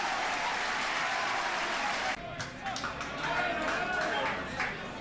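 Barnet home football crowd at a stadium applauding and cheering loudly, a dense roar that drops about halfway, then continues as scattered clapping and crowd noise with a voice talking over it.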